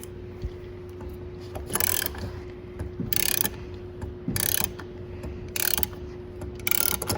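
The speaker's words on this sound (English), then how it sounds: "Dad's tightening it up there. And then it's squeezing this little fitting to the hose." A hose fitting is crimped tight onto a hose during an LS engine swap on a truck, with five short bursts of close ratcheting clicks separated by brief pauses.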